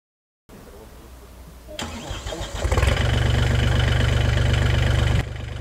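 An MTZ-320 tractor engine turns over and starts, then settles into a loud, steady running drone close by, with a brief quieter stretch before the engine catches.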